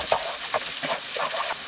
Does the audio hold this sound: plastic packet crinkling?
no